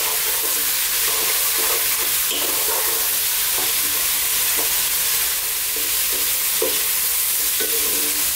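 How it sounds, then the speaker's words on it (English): Vegetables and noodles stir-fried over lively heat in a pan, a steady loud sizzle with recurring scraping and tossing clatters, no talking. "Let's just stir fry this together."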